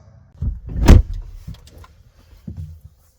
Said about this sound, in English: Let's move the seat forward